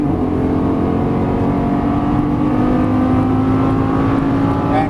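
Lamborghini Gallardo LP550-2 engine pulling hard at full throttle on a racetrack, a loud, steady, continuous roar that holds throughout with no break and no voices.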